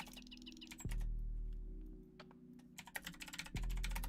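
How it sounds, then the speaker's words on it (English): Computer keyboard typing at a desk while playing Ultima Online, with quick irregular key clicks in bursts between steady background hum, close and faint. "A lot of it is typing commands"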